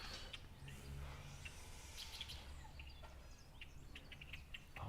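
Scattered bird calls and short chirps ring out faintly outdoors in a small fishing village, repeating irregularly over a low rumbling background without any talking.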